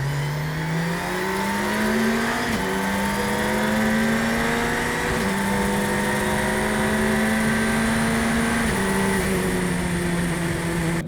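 Radical SR10 race car accelerating hard in a drag race against a Corvette, a loud high-revving engine climbing steadily through the gears with brief dips at each upshift, close and continuous.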